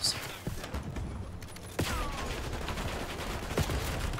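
Rapid gunfire from shooting a teammate in Call of Duty: Black Ops 6, loud and dense at the start, with a sharp burst near the two-second mark and more shots that keep going under steady game noise.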